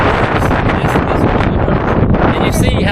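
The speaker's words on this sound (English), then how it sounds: "the wind is actually getting even worse" Strong wind buffeting a microphone on a Florida fishing pier, a loud continuous roar and rumble with gusty swells throughout, filling the whole stretch without pause.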